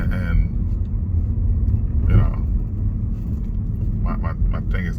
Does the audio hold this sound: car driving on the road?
yes